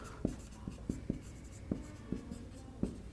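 Pen writing on paper during a class 8 maths lesson on proportion, a series of short, crisp strokes and taps at an uneven rhythm, close and fairly quiet, with no talking.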